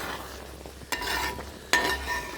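Jackfruit and jaggery mixture being stirred in a pan, a steady low scraping with two sharper bursts of spoon movement against the pan, close and fairly quiet.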